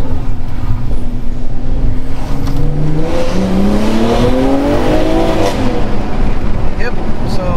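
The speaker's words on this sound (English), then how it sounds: "that's the stock exhaust that you're hearing right now" A BMW M340i on its stock exhaust in sport plus mode revs hard through an acceleration pull, the engine note climbing loudly in pitch under heavy road and wind noise, with a voice talking over it.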